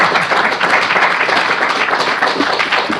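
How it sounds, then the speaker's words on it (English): Audience applauds panelists at a public policy forum on fraud, waste and abuse, a steady dense wash of many hands clapping throughout with no voices. "a round of applause for all of our panelists"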